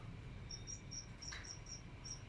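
Field crickets chirp in short repeated pulses at a steady rhythm over a low background rumble, with no talking, in Chai Mongkhon Wit, Songkhla, Thailand.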